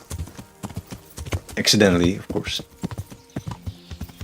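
A horse's hooves clip-clop in a steady rhythm in a video game, with a brief whinny in the middle, heard beneath a person talking.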